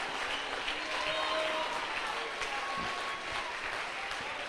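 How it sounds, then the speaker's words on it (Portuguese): A church congregation applauds in a steady, dense wash of clapping that fills the room for several seconds, with faint voices mixed beneath it. "Fique de pé para aplaudir esse rei Jesus."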